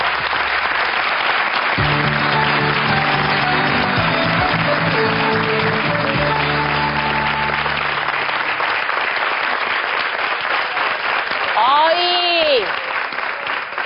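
Sustained applause from a large crowd fills the whole stretch, loud and steady, with background music and a brief whooshing effect near the end.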